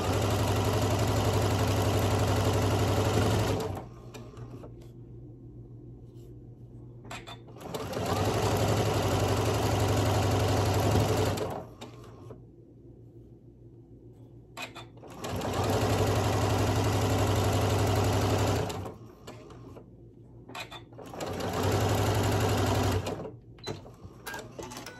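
A sewing machine stitches butterfly quilt block pieces together in four loud, close bursts of steady whirring. Each burst lasts a few seconds, with quieter pauses of fabric handling in between.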